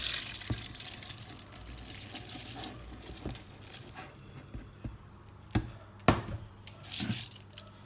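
Water splashes and patters into a blender while making lamugee, a spiced rice drink, with a few sharper sloshes and drips near the end, close by and with no talking.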